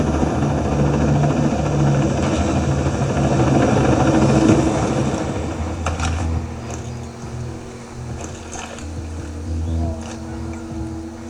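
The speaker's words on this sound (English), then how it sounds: "Chopper in the sky." Helicopter rotor drone in the video game Ghost Recon Breakpoint, a loud steady whir that fades back somewhat partway through and is joined by intermittent clatter and other game sounds.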